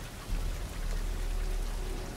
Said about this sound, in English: let's stop the raining ambient noise